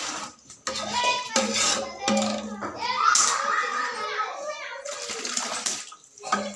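Water is poured and splashed for washing up at a village party, with dishes and cutlery clinking close by. Children and adults chatter over the running water.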